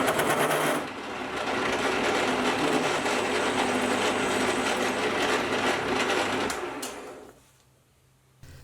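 Metal lathe turning down the end of a tap wrench handle, a steady loud mechanical whir and cutting hum that runs continuously, then winds down and fades toward the end.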